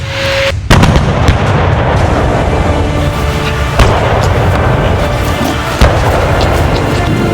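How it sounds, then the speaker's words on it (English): Booming artillery fire from a video game barrage, a dense continuous rumble of blasts with sharper impacts punching through around one, four and six seconds, loud and sustained throughout. "Call in the True Band artillery!"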